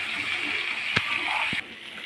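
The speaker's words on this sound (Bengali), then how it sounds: "আলু আর বেগুনটা হালকা ভেজে নেওয়া হচ্ছে।" Sliced potatoes and long-cut eggplant fry lightly in hot oil for a Bengali silver carp broth, a steady close hiss and sizzle with a couple of brief clicks before the sizzle drops off.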